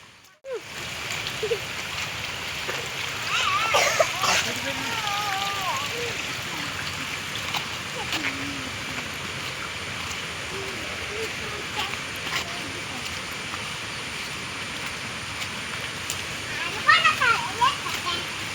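Steady rushing water from a waterfall with occasional splashes, while people talk close by.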